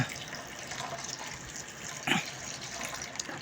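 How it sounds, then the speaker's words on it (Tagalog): Vinegar is poured into a pot of onions while making paksiw na bangus, a steady liquid gush with a brief louder splash partway through. "and after bubusan natin ng suka."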